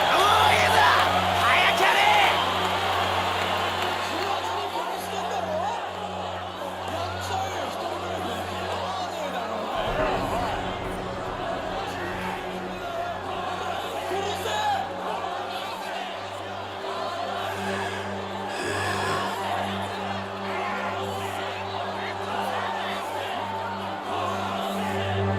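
A Coliseum crowd in Yakuza 4 bellows and yells in a sustained, rowdy roar over a low droning background, loudest at the start and shifting as the scene continues.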